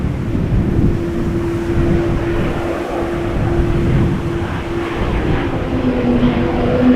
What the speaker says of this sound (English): when they apply the reversers, you can also hear the whale sounds